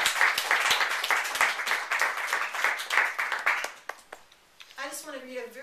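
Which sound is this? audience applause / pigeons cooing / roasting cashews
audience applause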